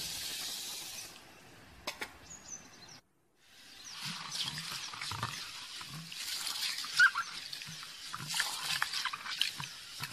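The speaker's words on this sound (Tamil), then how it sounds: "அதை நல்லா தண்ணி ஊற்றி ரெண்டு தடவை கழுவணுங்க." Water sloshing and splashing as millet grains are swirled and rubbed in a bowl, with soft wet scraping and trickling, fairly close, in irregular bursts.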